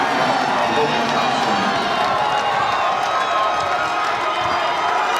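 St. Mary's fans roar loudly and continuously in a packed Michelob Ultra Arena during a college basketball game against Oregon, a dense sustained crowd wash with commentary over it.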